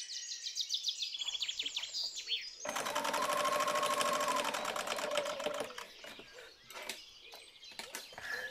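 A sewing machine topstitches fabric 2 mm from the edge of a Halloween candy bag. Near, steady motor whirring and rapid needle clatter run for several seconds, with high chirping tones at the start and scattered clicks afterward.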